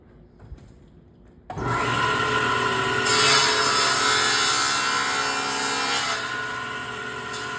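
A bandsaw blade bites into a wood test piece for a miter cut, a sudden loud, steady rasping whine that swells midway and holds for several seconds without talk.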